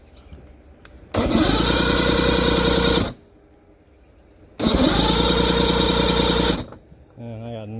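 A 1970 Mercury 1150 outboard motor cranks over in two loud, sustained bursts of about two seconds each, separated by a quiet pause, while being tested for spark. It never catches and run. A brief voice follows at the end.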